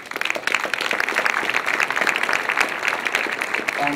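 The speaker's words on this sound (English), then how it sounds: "Please welcome a warm round of applause" A conference audience applauds to welcome a doctor giving a talk on food and Western disease, steady dense clapping throughout.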